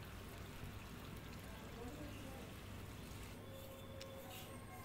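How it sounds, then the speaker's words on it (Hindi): Water poured onto the soil of a newly planted water apple sapling in a nursery, a steady low trickling and splashing that runs continuously at moderate level. "अच्छे से पानी एक बार डाल दीजिए इसमें।"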